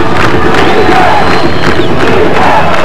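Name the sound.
football crowd chanting defense at high school game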